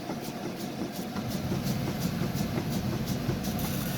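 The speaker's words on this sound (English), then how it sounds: "So I start fanning that brake." Truck air brake pedal pumped repeatedly during a pre-trip inspection, giving a steady rhythmic series of hissing air bursts over a continuous engine idle rumble.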